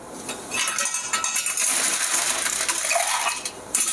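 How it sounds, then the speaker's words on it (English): Ice cubes tumble into a metal cocktail shaker tin while a Tommy's Margarita is being made, a dense, continuous clattering and rattling of cubes against metal that runs loud and close for a few seconds with no talking. "So let's add some ice to our shaker and give it a whirl."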